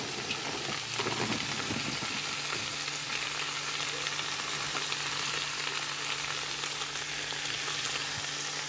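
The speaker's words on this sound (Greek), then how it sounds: "Ανακατεύω όλα μαζί, να τσιγαριστούν όλα μαζί." About 900 grams of green beans are stirred and sautéed together in a pan, giving a dense, steady sizzle and crackle with occasional stirring scrapes, close and continuous.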